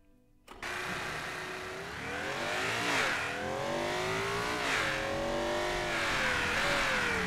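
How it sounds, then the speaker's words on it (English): A car engine in the Automation driving game revs hard and continuously through a lap, loud and close, its pitch climbing and dipping as it shifts and works through corners, with no talk over it. "the engine is loud still"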